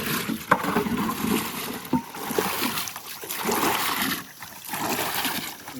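Fish feed ingredients, including oil cake, mixed by hand with water outdoors by a pond: continuous loud sloshing and splashing with brief lulls between strokes.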